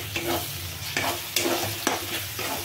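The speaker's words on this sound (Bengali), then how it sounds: "দিলাম আদা রসুনের পেস্ট" Ginger garlic paste for chicken kosa sizzles steadily in a hot pan while a spoon scrapes and stirs it in several distinct strokes, close and fairly quiet.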